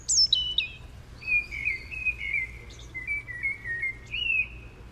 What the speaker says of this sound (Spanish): después de oír este cántico de las aves